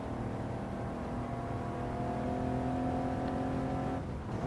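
A DMC DeLorean engine drones steadily in Gran Turismo 7, a sustained mid-pitched hum that climbs gradually in pitch, then dips near the end as the car shifts or lifts.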